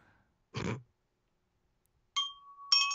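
A small bell dings with a clear sustained tone late in the clip, followed by a brighter ring, after an earlier short throat-clearing noise amid quiet.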